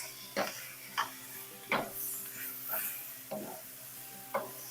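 Vegetables including snow peas stir-fried in a wok for chicken pad thai, with bursts of stirring and scraping against a steady sizzle of frying, several distinct clatters spaced about a second apart.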